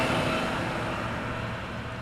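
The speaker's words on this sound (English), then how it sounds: "it was just a garbage truck in the alley next door that happened to be coming down the alley way too fast" A garbage truck speeds down an alley with a loud, broad roar of engine and road noise that holds steady and slowly fades slightly.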